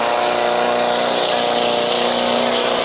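A John Deere 4010 tractor roars at full power during an outdoor tractor pull in Jordan, Minnesota, a loud, continuous, unbroken engine drone.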